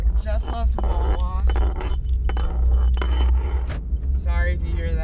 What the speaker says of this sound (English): Sorry if you hear that like metal clinking sound. It's a whistle I got from graduation